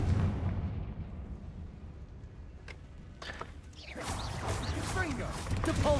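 A Confringo fire-blast spell in the video game Hogwarts Legacy, a rumbling low impact followed by a crackling burst of blasts and debris, close and loud, under game sounds.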